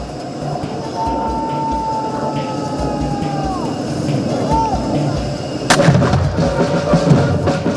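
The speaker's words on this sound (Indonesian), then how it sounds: "21 kali dentuman kehormatan menemani perjalanan Presiden Prabowo dan Raja Abdullah II" A single loud cannon boom from a 21-gun salute for a state visit by Jordan's King Abdullah II to Indonesia cracks out over a steady outdoor rumble, followed by a rolling echo; a thin whistle-like tone sounds earlier.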